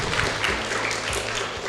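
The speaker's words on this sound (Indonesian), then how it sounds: "tepuk tangan dulu." An audience claps at a talk on tourism, a brief dense wash of applause at moderate loudness, steady across the short moment with no clear voices.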